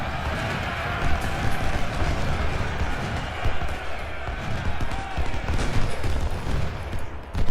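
Massed musket volleys and cannon fire from a Civil War battle in the strategy game Ultimate General: Shiloh, a dense, continuous crackle of gunfire with heavier thumps scattered throughout, steady and loud across the whole stretch.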